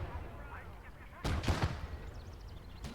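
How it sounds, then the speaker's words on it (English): Cannon fire in a World War Two tank battle game: two sharp, loud booms in quick succession, then a fainter blast, over quiet background sounds. "Cannon fire incoming."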